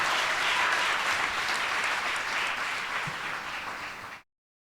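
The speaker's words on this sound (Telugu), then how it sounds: "అందరూ చప్పట్లు కొట్టి ప్రభుని గణపరుద్దాం" A church congregation at a Holy Communion service applauds together, a dense, sustained burst of clapping that fills the room and then stops abruptly.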